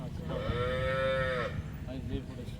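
A cow at a Dinajpur livestock market selling cows with calves gives one long, loud, tonal moo lasting over a second, followed by faint background murmur and market noise.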